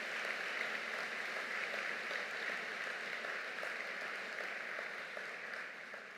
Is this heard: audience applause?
yes